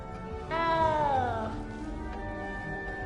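A cat gives one drawn-out meow inside the castle in the video game Hogwarts Legacy, heard clearly over a steady ambient game background.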